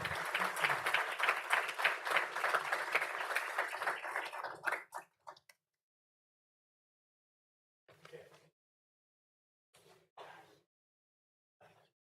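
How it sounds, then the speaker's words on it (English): Audience at a town board of aldermen meeting gives a short burst of clapping that stops abruptly after about five seconds, followed by a few faint, brief sounds in the quiet room. "Let's do another round of applause"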